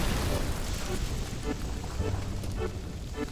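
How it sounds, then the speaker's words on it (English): A fire spell in Bioshock thaws frozen ice with a steady, roaring whoosh of flame. The rushing noise stays loud and continuous throughout. "I can thaw them out with my fire spell"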